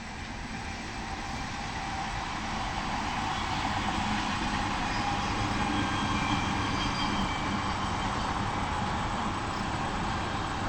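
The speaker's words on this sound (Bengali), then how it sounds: "একটা ট্রেন আসছে।" A train passes near a village surrounded by water-filled fields, giving a continuous, even rumble and rattle of rolling wagons that holds steady for about ten seconds without voices.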